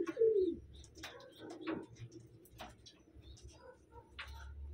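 A blue bar pigeon coos close by in a few soft, low throaty bursts, with quiet rustling and faint background noise between calls.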